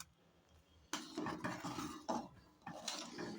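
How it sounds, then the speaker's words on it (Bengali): Pitha cakes are turned and stirred in a cooking pan, with a utensil scraping and clinking against the metal in repeated bursts of activity after a quiet start. "মা এই যে দেখো পিঠাগুলি আমি বারবার নেড়ে চেড়ে উল্টিয়ে দেব আর না হয় একটার সাথে একটা লেগে যাবে"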